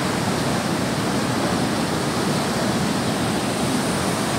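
Huka Falls near Taupo, New Zealand, thunders with a dense, steady rushing roar of heavy water, close and loud throughout, with no voices.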